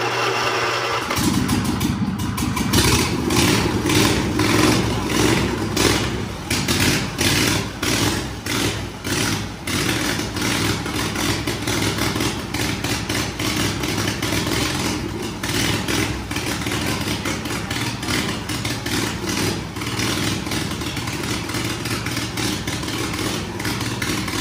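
A motorcycle engine runs at idle just after starting after sitting unused for a few weeks, with a steady mid-pitched clattering rumble that stays loud and close throughout, with no talking.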